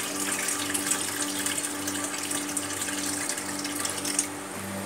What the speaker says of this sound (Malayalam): ഇത് വെള്ളം നന്നായി തിളച്ച് വരുന്നുണ്ട്. അപ്പോൾ ഇതിലേക്ക് ആ അരി വാർത്തെടുക്കുകയാണ്.